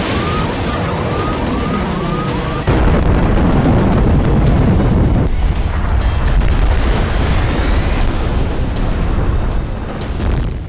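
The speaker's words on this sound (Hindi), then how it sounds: "ऐसा भयंकर धमाका," Violent blast in Gaza during the Israel-Palestine war: a loud, sustained roar of booming explosion and rumble fills the clip, with a sudden surge near the start and siren-like wails overhead, no talk.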